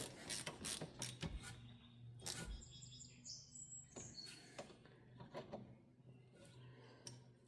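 A ratchet tightens rear brake bolts on a 2016 Honda Pilot, with quiet, rapid clicking passes and some metallic clanks spread over several seconds at low volume, and no talk.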